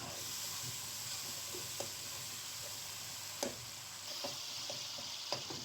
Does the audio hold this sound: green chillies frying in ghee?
yes